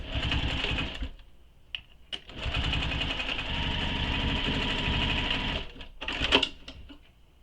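A sewing machine stitches through shoulder bag panels and a strap anchor in a close, loud, rapid mechanical run of about three seconds, framed by shorter bursts before and after with brief pauses.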